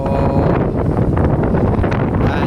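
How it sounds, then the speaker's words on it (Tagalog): Strong wind roars and buffets the microphone in a continuous loud rush aboard a bulk carrier ship, with no voices. "malakas yung hangin."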